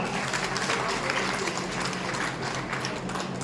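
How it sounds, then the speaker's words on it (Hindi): An audience at an award and felicitation ceremony applauds with dense, steady clapping that runs unbroken from start to finish, moderately loud with no voices above it. "जोरदार तालियों के साथ"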